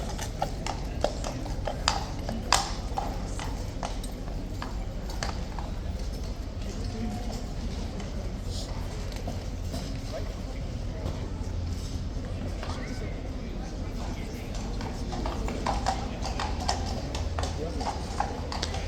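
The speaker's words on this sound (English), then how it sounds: "Horse can't wait to get out in the sunshine by the looks of it." Horse hooves clip-clop steadily on pavement at Horse Guards in London. The irregular sharp knocks go on throughout over outdoor crowd noise, and people talk in the background.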